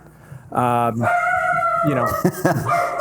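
A small dog barks at a delivery person in a home, several harsh yapping barks in quick succession, loud and close with no talk over them.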